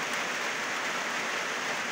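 Heavy rain pouring in a mountain area, a dense even hiss of water falling steadily with no pauses or voices.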